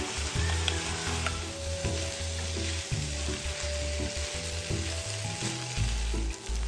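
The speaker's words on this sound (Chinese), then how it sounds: "再将预先备好的香米倒入一起翻炒。" Fragrant rice with Hakka preserved vegetables is stir-fried in a wok, with a steady loud sizzle and repeated scraping and tossing of the spatula running throughout, up close and with no talking.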